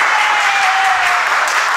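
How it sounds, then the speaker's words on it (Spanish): Loud, steady applause from a small audience welcoming a young girl named Yuhany on stage, dense clapping filling the whole stretch at even strength with no voices. "recibamos con un fuerte aplauso a la niña Yuhani"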